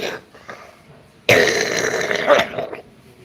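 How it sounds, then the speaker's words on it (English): A man coughs hard in a sudden harsh, raspy burst that lasts over a second, preceded by faint murmuring and followed by trailing throaty sounds, close to the mic. "I just constantly coughing"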